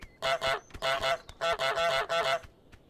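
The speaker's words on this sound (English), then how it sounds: "it honks to assert its dominance" A goose in Untitled Goose Game honks repeatedly in quick, loud bursts, paired honks in a steady rhythm, close and clear with no other sounds.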